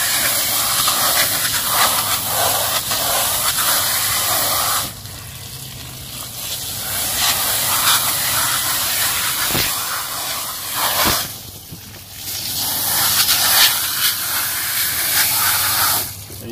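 Water sprays with a loud, continuous hiss onto the cells of a Honeywell electronic air cleaner during washing, stopping briefly twice before resuming.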